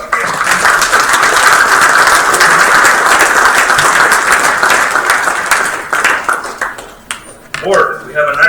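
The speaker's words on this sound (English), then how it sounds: "let's give everybody a round of applause again" Audience applause fills a school board meeting room, dense sustained clapping for several seconds that thins into scattered claps and murmuring voices at the end.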